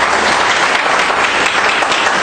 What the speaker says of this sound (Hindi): तो अपने लिए ताली बजा लो।